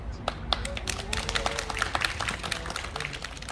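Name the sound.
audience applause after a speaker at a residents' meeting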